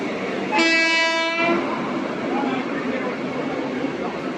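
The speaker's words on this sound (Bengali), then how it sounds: "এদিকে একটা মালগাড়ি যাচ্ছে" A freight train passes with a loud horn blast lasting about a second, then a steady rolling rumble, heard outdoors with people talking nearby.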